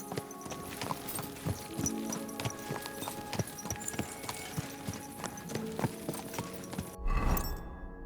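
Horse hooves clip-clopping in the video game Kingdom Come: Deliverance II, a steady walking rhythm of close, sharp hoof strikes over several seconds, ending in a brief louder clatter.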